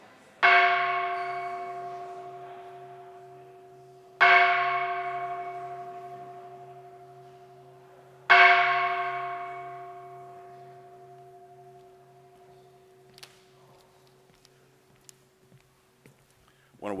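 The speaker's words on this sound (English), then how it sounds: "I will be ringing the bell to begin chapel" A chapel bell is struck three times at even intervals, each ring sharp and close with a long humming decay, followed by a few faint knocks and rustles.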